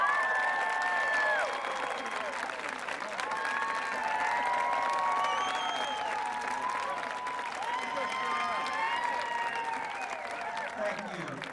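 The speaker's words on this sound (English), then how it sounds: "please give a round of applause to our own director" Audience at an opening ceremony of a marching band event applauding, a sustained wash of clapping from a large crowd, with chattering voices and some cheering mixed in throughout.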